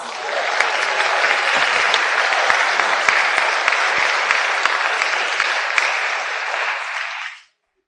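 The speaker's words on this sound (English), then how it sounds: "I feel that they definitely deserve a round of applause." A large audience at an awards ceremony applauds in steady, dense clapping that holds for about seven seconds and then stops abruptly, with no voices over it.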